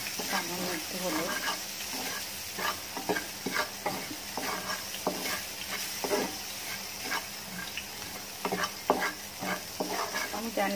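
Cooked rice seasoned with turmeric is stir-fried in a pan for fried rice: a spatula scrapes and tosses it in repeated close strokes over a soft, steady sizzle, with no talking.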